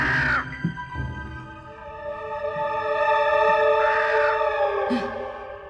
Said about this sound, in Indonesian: Ada apa dengan gagak hitam itu?